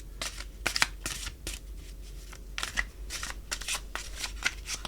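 Tarot cards are shuffled close up in quiet surroundings, a run of soft riffling bursts and papery slaps repeating steadily, with no talking.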